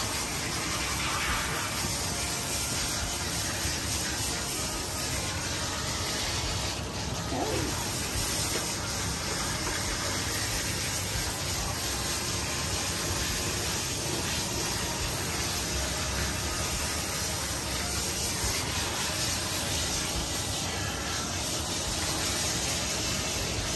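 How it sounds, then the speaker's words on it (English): Water spray rinsing shampoo from a severely matted Shih Tzu during grooming, a steady, close hiss of running water that continues without a break. "now we're gonna rinse her"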